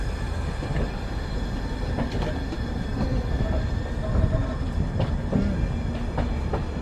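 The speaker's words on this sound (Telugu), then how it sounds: "ట్రైన్ ప్రయాగరాజ్ జంక్షన్కి ఇలా అయితే అరైవల్ అయింది." Passenger train 12791 pulls into Prayagraj Junction with a steady rumble of rolling wheels, soft rhythmic rail clicks and occasional faint squeals, heard from on board at moderate loudness.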